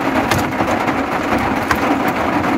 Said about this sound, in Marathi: पावसामुळे बघा तुम्हाला टारटार टारटार आवाज येईल.